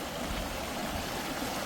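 Water flows with a steady, continuous rushing sound at a former army camp in Anandapuram, Mullaitivu, filling the moment evenly without pauses or voices.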